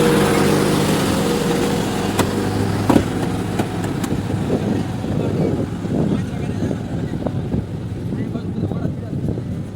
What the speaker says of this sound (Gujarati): ટ્રેક્ટર જો જાય ધબ ધબડ